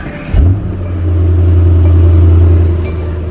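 A 2018 Mercedes-AMG E63S with AMG sports exhaust starting for the first time: a short crank, then a loud, close engine catch that settles into a deep, steady idle rumble.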